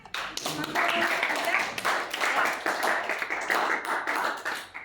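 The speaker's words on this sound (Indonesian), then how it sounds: "Tepuk tangan." Classroom applause from a group of students during a teaching practice lesson, a dense, steady patter of clapping hands lasting several seconds at moderate loudness.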